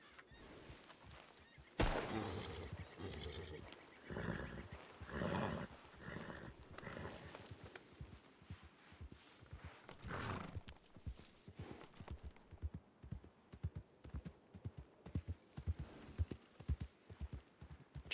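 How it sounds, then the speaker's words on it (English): Hooves of a video game horse clip-clop in a steady rhythm with whinnying now and then, faint background ambience and no talking. "I hear a horse."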